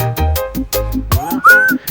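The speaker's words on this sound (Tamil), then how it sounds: "இது கிரேட் பேரட் இது விசில் அடிக்குது எங்களை பார்த்து" A parrot gives a short rising whistle among other close, loud squawks and calls in a brief burst.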